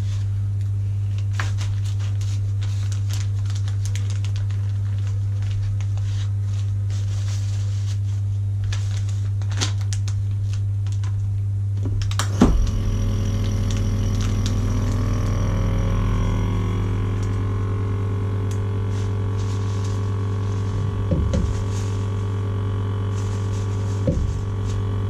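A vacuum packing machine sealing fish fillets drones with a steady low motor hum that shifts midway into a louder pumping phase with a few brief clicks, continuous and close, with no talk.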